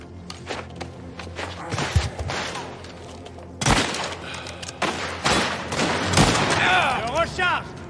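Gunfire in a mafia video game shootout: rapid bursts of shots and thuds close up, with shouted voices over the action.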